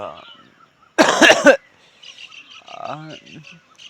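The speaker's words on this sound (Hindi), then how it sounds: "खांसी होती है का करी।" One loud, harsh cough bursts out close by amid quieter voice sounds and a faint tonal, chirpy background.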